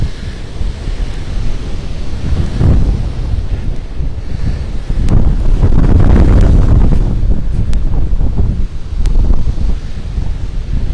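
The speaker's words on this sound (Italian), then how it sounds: "Qui le onde continuano a sbattere sulla sede stradale e sul muretto che sta dentro" Storm waves crash onto a closed seafront promenade road and its low wall at Capo d'Orlando, loud booming surges mixed with heavy wind buffeting the microphone, with no voices.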